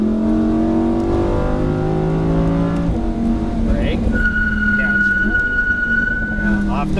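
A race car accelerates at full throttle on a Las Vegas track, its engine whining and climbing in pitch with a shift partway through, loud and close inside the car.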